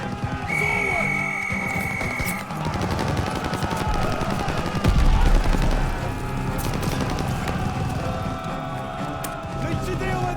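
Rapid gunfire bursts from a machine gun bunker during a charge in the Call of Duty: Vanguard video game, loud and continuous, with a heavier boom midway, mixed with battle noise and voices.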